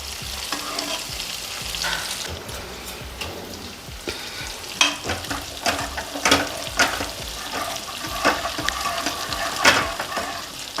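Close, steady sizzling of onion and tomato sautéing in a pan, with scraping and stirring noises breaking through now and then, and no talking.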